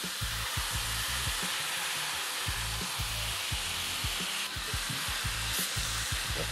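Pumpkin and orange lentils are stirred in a soup pot, a spoon scraping and knocking in a quick, regular rhythm of repeated strokes over a constant hissing simmer.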